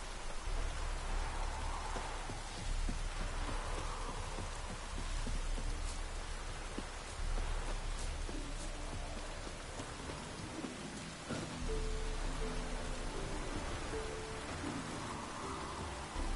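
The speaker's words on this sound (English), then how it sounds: "Looked like it would rain, and here it is." Steady rain pours down in The Witcher 3, a dense even hiss across the whole stretch with soft rumbles underneath, no voices over it.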